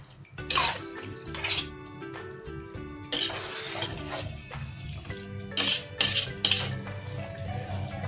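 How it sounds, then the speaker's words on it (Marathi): Water splashes and pours in several short bursts into a pressure cooker pot of goat tripe masala, about half a bowl, with a low steady hum underneath and quiet pauses between the pours. "याच्यामध्ये थोडंसं अर्ध वाटी पाणी घालते मी"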